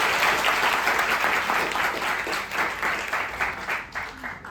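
An audience applauds at an orientation session, a dense, even round of clapping from a seated crowd that holds steady and then thins out toward the end.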